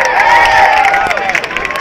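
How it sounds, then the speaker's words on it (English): Crowd cheering for celebrity runners at a London Sports Relief mile run, a loud, dense roar of voices and shouts held steady throughout. "Massive cheer for the celebrities running with you."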